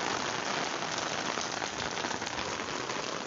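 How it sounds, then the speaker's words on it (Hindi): Heavy rain pours down steadily in Gulzar-e-Hijri, Karachi, a dense, loud hiss of water drumming on surfaces with no break and no voices. "बहुत तेज़ बारिश स्टार्ट हो गई है यहाँ पे"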